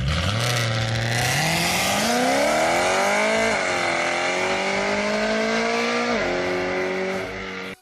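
A car engine revs hard and continuously, pitch climbing in surges then holding high, loud and close, before cutting off at the end.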